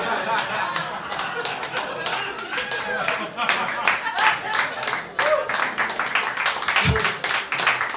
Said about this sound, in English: Four of you really like applause